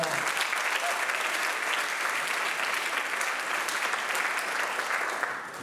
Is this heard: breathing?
no